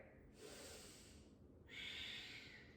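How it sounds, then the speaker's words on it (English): Forceful nasal breathing during a yoga headstand flow, one long hissing exhale followed by a sharper, stronger inhale, close and steady with no talking. "Really strong breathing in and out through the nose here."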